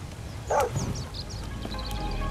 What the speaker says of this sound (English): Oh, that's a good dog.